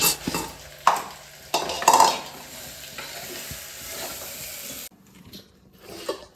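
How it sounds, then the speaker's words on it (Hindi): Potato curry fries in a pan while being stirred, with loud metallic scrapes and clinks of the spoon against the pan over a soft, steady sizzle. "उसके लिए आलू की सब्जी बन रहा है"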